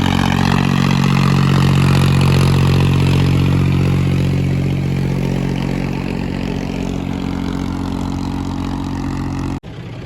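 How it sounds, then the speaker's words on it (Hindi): A tractor engine runs loud and close with a rotavator attachment under test, giving a steady low rumble with a mechanical clatter that stays even throughout and cuts briefly near the end. "बाकी ट्रैक्टर की अब टेस्टिंग ले रहे हैं रूटर पे"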